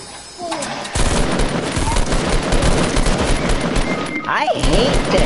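Rapid automatic gunfire and a continuous barrage of shots ring out in a Fortnite match, dense and loud throughout, with players' voices talking over the fight.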